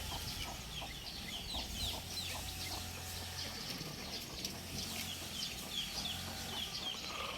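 Fighting cocks clucking in a farmyard, faint and somewhat distant, with soft irregular clucks and short calls over a steady background hum, no voices.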